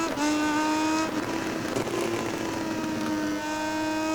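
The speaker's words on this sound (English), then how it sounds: "Getting back on the throttle to go towards the penultimate turn" Moto2 racing motorcycle engine in MotoGP 19, a loud, steady high-pitched whine held near the listener as the bike powers out of a corner on a circuit, with no talk.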